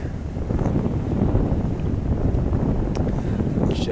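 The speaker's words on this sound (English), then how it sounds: "so we have a bit of wind" Steady wind buffeting the microphone on a Seine river cruise boat, a loud continuous low rumble with faint sounds of the boat underneath and no talking.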